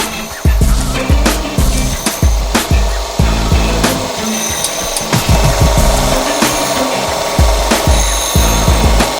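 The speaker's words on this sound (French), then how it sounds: "On va ensuite les meuler pour gommer toutes les irrégularités liées à la découpe." Cut steel brackets for a homemade car roof rack are ground smooth, loud close abrasive rasping in repeated uneven strokes with low thumps as the piece shifts, a constant harsh hiss under each pass.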